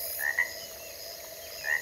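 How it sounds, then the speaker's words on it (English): Frog croaks in a Unity 5 game's ambient audio mix, a few short bursts near the start and again near the end over a steady background bed, moderately loud and alone. "The frogs are way too loud."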